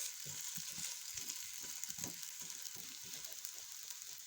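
A black kavuni rice roti with carrot, cabbage and onion cooks on a pan, giving a soft, faint sizzle with small irregular crackles spread through the clip.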